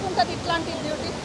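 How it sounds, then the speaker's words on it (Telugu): Bogatha waterfall in heavy flow roars as a steady broadband rush, with faint voices in the background. "కొంచెం ఫ్లో అధికంగా ఉంది. వాటర్ఫాల్ చూడడానికి వచ్చాను."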